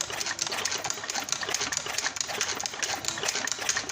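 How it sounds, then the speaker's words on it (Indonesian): A Suzuki Skywave 125 scooter engine being kick-started during an engine rebuild, a fast, dense mechanical clatter churning steadily and loudly up close without a break, with no talk. "Oke, kita engkol, perhatikan di bagian lubang ini teman-teman."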